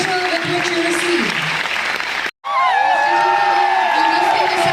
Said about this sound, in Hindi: जोरदार तालियों के साथ हम इनका सम्मान करेंगे।